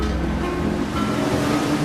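Heavy surf of the Southern Ocean near the southern tip of Chile, a dense, continuous roar of breaking waves with wind noise filling the whole stretch, loud and close with no pauses.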